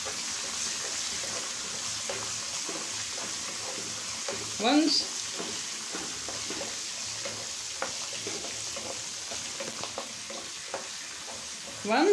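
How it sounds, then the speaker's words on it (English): Mustard seeds and curry leaves fry in hot oil for a temple-style tamarind rice paste, giving a quiet continuous sizzle with soft stirring scrapes and a few louder clatters. "Once all mustard seeds, everything is fluttered"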